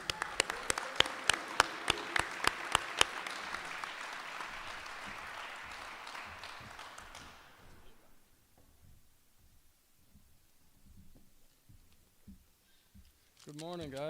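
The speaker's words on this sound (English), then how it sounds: "So please, let's give a round of applause for Donovan Tate." An audience applauds at an apprenticeship graduation ceremony, with loud, sharp individual claps standing out over the crowd at first. The applause fades out after about seven seconds, leaving quiet room noise and faint movement.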